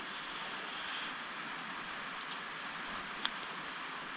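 Steady rain falling outdoors, a dense even hiss of drops with faint scattered patter and one sharp drip-like tick near the end, no voices.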